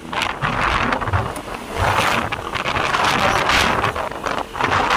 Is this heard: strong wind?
yes